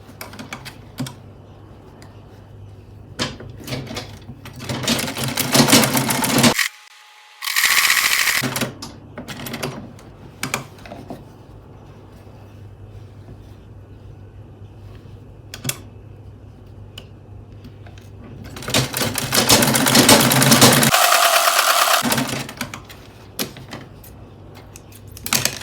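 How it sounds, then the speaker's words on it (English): A sewing machine stitches a bralette in several bursts of rapid mechanical clatter, two of them long and loud, separated by quieter clicks and fabric handling. "Now I'm going to go ahead and sew from here."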